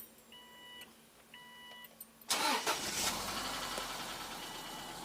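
Subaru Baja engine cranks and fires after a few dash chimes, then settles into a steady idle with a ticking lifter noise, heard close and fairly loud with no talking.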